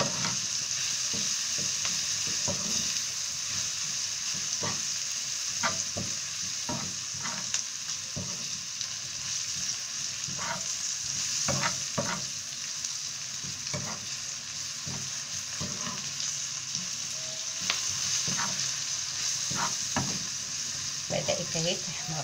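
Fish fries in a pan with onion, a steady close sizzle running throughout, punctuated by sharp clicks and scrapes of stirring.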